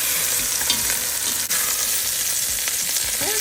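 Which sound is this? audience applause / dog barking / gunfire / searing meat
searing meat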